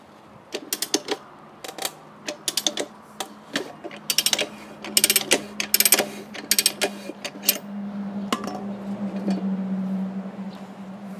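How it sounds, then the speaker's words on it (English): The ratchet system of a Rabaconda street bike tire changer clicks in quick, close bursts while a TKC70 rear tire for a Honda NC750X is levered onto the rim, followed by a steadier creaking strain. "I will use the help from the ratchet system again here."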